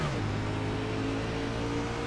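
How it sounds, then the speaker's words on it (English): NASCAR stock car racing sim at Phoenix, iRacing, with an engine drone from the player's car and a rival running alongside, a steady mid-level roar with shifting tones, continuous and fairly faint. "Got a car inside. I can hear him."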